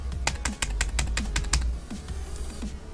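Playing cards shuffled during a trading card game session, a quick burst of sharp riffling clicks and taps, close and fairly loud, with a few softer card snaps trailing off afterward.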